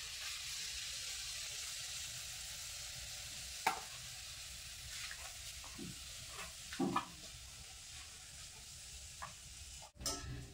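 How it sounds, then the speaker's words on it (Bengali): Luchi deep-frying in hot oil, a faint steady sizzle throughout with a few brief clinks and stirring scrapes scattered over it. "তো এইভাবে সব লুচিগুলো আমি ভেজে নেব"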